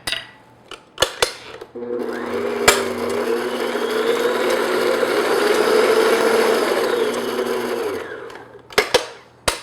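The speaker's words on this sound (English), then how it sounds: "I'm adding 1 teaspoon, 4 grams of pure vanilla extract. And I'm just going to beat that in." Electric mixer beating pure vanilla extract into whoopie pie batter, a loud, steady whirring hum lasting several seconds, framed by sharp knocks and clatter of the bowl before and after.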